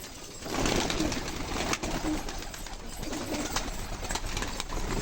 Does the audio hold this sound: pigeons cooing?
yes